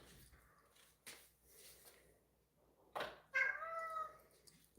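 A house cat gives one clear, drawn-out meow near the end, close and fairly loud, after a few seconds of quiet room sound and faint rustling.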